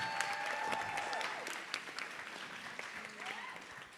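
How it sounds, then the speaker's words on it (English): Applause from an audience, a steady patter of clapping lasting throughout, with some voices and whistles mixed in. "Give a round of applause for everybody."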